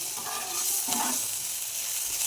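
Pasta stirred in oil in a pan, a brief steady sizzle with soft scraping of the spoon, no voices.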